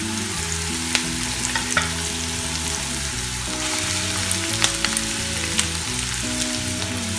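Mushrooms sizzling in a pan with beef salpicao, a continuous close frying crackle with occasional sharp pops and utensil taps, steady throughout without talk.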